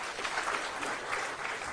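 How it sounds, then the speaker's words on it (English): Audience applause fills a hall at a presidential address to small business owners at KICC in Nairobi, a dense, steady wash of many clapping hands with no pauses. "makofi kwake."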